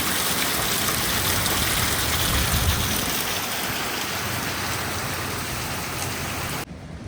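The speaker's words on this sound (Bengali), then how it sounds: "কত বৃষ্টি হচ্ছে" A heavy downpour hisses loud and constant, dense rain pattering on surfaces close by, continuing without a break until a sudden drop at the end.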